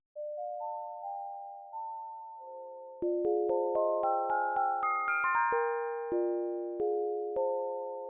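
Pure sine tones from an M1 synthesizer's additive synthesis play in a rising sequence of held notes, including a D a couple octaves above C, then a run of quick plucked notes layers over them, clean and close.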